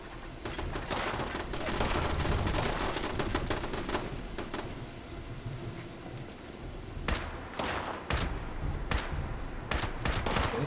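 Automated turrets in Fallout 76 fire rapid bursts of gunfire, rattling volleys broken by short pauses, loud and close, with a voice faintly present.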